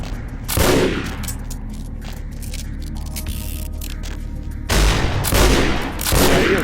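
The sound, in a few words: gunfire in Vampire the Masquerade Bloodlines video game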